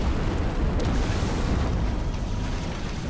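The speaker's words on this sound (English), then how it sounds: "we also have the Minos, which is a very, very powerful single-shot cannon" Minos single-shot cannon firing in the sci-fi tower defense game Siege of Centauri, a heavy booming blast that rumbles on loudly for several seconds with dense low-end noise.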